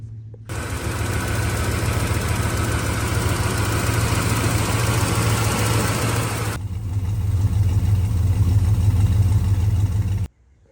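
Fuel-injected GM ZZ4 350 V8 in a 1957 Chevrolet Bel Air idles steadily and loud up close with a deep rumble, its tone shifting partway through before cutting off abruptly at the end.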